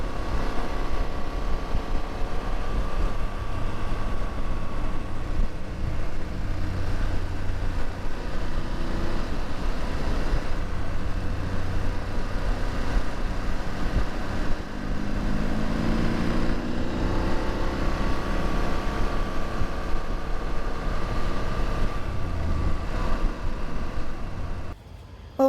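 Motorcycle riding along the southern coast of Spain toward Malaga, a loud continuous engine drone with wind rush, shifting pitch as it accelerates and settles, alone without talk.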